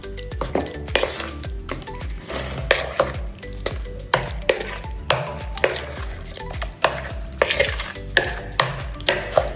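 Coriander chicken is stirred in a frying pan with spices, a utensil scraping and clattering against the pan in repeated strokes over a soft sizzle, close and fairly quiet with no talking.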